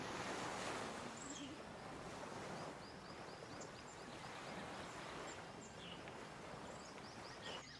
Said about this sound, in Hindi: समुंदर की लहरें देख रही हो? आज कितनी तेज उठ रही हैं।